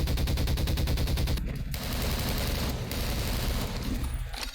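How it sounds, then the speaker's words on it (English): Pulse rifle fire in the Half-Life 2 Opposing Force game, heard as rapid, loud automatic bursts with a dense, even rattle and short pauses between volleys, close up and with no talk. "It's especially noticeable in the pulse rifle, which sounds like an SMG now."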